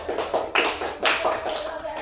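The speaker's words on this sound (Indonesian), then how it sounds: "Tepuk tangan untuk kelompok 2" A classroom claps for a student group after its presentation, with bursts of hand claps arriving in uneven waves over about two seconds and voices murmuring faintly underneath.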